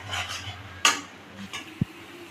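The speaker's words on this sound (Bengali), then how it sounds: "সুন্দর করে আরও কষিয়ে পুরো শুকনো করে ফেলবো মশলাটাকে আমি" A spoon scrapes and clinks against a pan while spice paste for prawn malai curry is stirred, a few sharp metallic taps over a soft background hiss, no talking.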